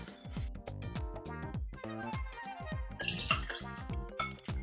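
Liqueur is poured into a measuring jigger, a quiet close trickle with splashy droplets and a brief louder gush near the end, no talking.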